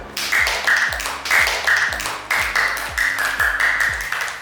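Classroom applause for the first student group after its presentation, a dense burst of hand clapping with periodic sharp taps, loud and steady throughout with no talking over it.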